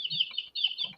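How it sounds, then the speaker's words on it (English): A chicken clucks in a steady run of close, loud calls, short bursts repeating with one brief gap partway through, sounding like a sound effect with no other noise around it. "this is what I was talking about, the chicken sound effect"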